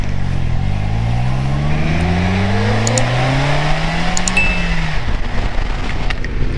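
A 2017 Polaris Slingshot SLR autocycle with a manual gearbox revs up close and loud, the engine note climbing steadily through a gear before dropping off at a shift, with road and wind noise underneath.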